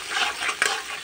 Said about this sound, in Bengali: একটু আলু ফুলকপি করলে পরে একটু ফুলকপিটা ভেজে নিই